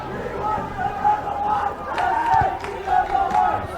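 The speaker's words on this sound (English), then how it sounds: "Enthusiastic Kenyan supporters down in front of the commentary position, given something to cheer about by their team." Enthusiastic Kenyan supporters cheering in a stadium at a World Rugby U20 Trophy match against Uruguay in Scotland, a steady roaring crowd with rising shouts, heard under commentary.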